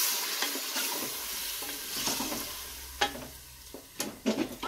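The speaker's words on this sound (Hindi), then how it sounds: "गोश्त को लहसुन के साथ भूनते हुए हमें तकरीबन 3 से 4 मिनट हो गए हैं" Beef fried with garlic and tomato paste in a frying pan, a soft sizzle broken by several close scrapes and clacks of the spoon stirring, growing busier toward the end.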